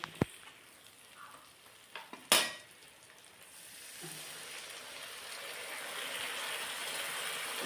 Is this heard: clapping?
no